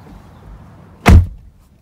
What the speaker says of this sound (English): That door has a pretty solid thunk to it.